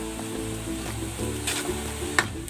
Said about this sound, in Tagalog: lulutuin natin yan dyan hanggang sa matuyo yung gata